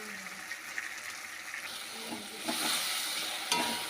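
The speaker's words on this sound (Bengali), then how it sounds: "এবার মশলার সঙ্গে ভালো করে বিমসটাকে কষিয়ে নেব" Spices stir-fried with beans in a pan for a village-style chicken dish give a steady sizzling hiss with scraping stirs, the frying noise swelling louder partway through.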